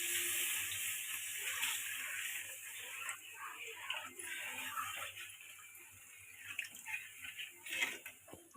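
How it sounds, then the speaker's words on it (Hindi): Water pours into a cooking pot of chicken masala curry with a faint, steady splashing hiss that rises in small bursts near the end, heard quietly alongside some background noise. "दोस्तों इसमें हम पानी डाल रहे हैं।"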